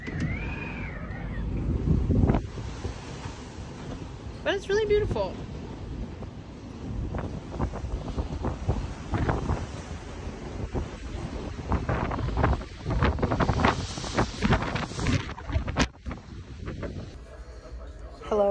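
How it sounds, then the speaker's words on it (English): Gusty wind buffets the microphone with low rumbling blasts, while people talk nearby. "It's hella windy outside,"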